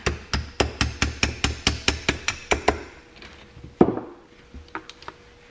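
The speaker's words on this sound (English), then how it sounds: "grab a hammer and a punch, and I'll see if we can just tap" A hammer taps a metal punch to drive out a chainsaw piston's wrist pin during a Ryobi C4618 rebuild, in a quick, steady run of about a dozen sharp strikes, then a few scattered, quieter knocks follow.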